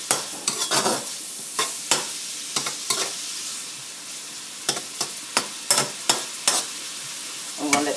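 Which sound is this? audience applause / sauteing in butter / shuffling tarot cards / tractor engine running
sauteing in butter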